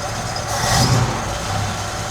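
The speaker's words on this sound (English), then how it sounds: "ignition on, fire it up right here" A Unimog's engine running steadily at idle, a close, even rumble that swells slightly in the middle with no talk over it.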